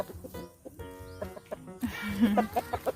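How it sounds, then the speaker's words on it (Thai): Chickens belonging to a farmer cluck and chatter while pecking at rice set out for them, several short calls in quick bursts close by, with faint background bird sounds. "ไก่ตาไทยเอาข้าวให้มันกินด้วยเห็นไหมคะ"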